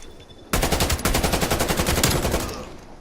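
Rapid automatic gunfire in the video game Call of Duty Black Ops Cold War, a loud sustained burst of about two seconds with evenly spaced shots, starting abruptly after a brief quiet.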